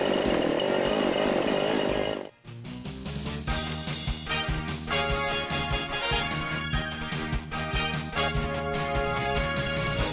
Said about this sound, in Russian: Я буду бензопилой пилить.